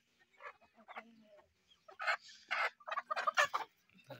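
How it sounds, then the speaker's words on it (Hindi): Chickens and a large rooster being released into a new cage cluck and squawk in uneven bursts close by. The calls grow louder and busier toward the end, with faint movement between them. "ये बड़ा मुर्गा हमारा, ये देखे, ये भी छोड़ो दो तीन"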